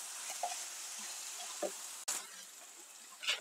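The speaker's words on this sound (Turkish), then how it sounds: "Bir 2-3 dakikada otlarımla kavurdum arkadaşlar" Herbs sautéing in a pan give off a steady, close sizzling hiss, broken by a few soft clinks and scrapes from stirring, with a sharper clatter near the middle.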